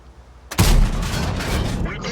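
Chi-To SP Japanese tank destroyer gun in a video game fires a single loud, sharp boom that rolls into a sustained rumbling tail.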